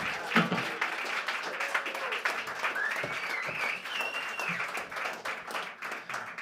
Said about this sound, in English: Give them a round of applause for putting up with me,